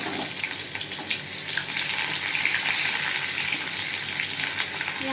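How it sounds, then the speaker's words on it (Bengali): Onion frying in hot oil in a wok, a loud continuous sizzle with a bubbling, watery hiss and occasional crackles, close and unbroken. "পেঁয়াজটা একটু ভাজা ভাজা করে নিই"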